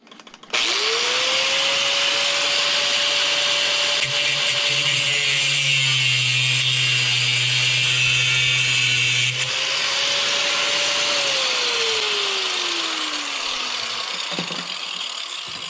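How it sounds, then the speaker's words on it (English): A power tool cuts through a tripod bolt, a steady loud whine with a rising and falling motor tone running for about fifteen seconds, dipping briefly midway before continuing and winding down. "I'm going to stop a minute and cut that bolt off"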